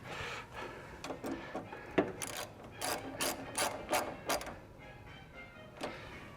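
Hand ratchet clicking under a 1961 VW Beetle, quick bursts of sharp metallic ticks in an irregular rhythm, close but fairly quiet, with no talking.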